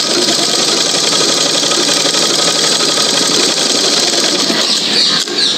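A sewing machine stitches a doll's dress fabric, running continuously close by with a fast, even mechanical whir and chatter that hardly varies in level from start to finish.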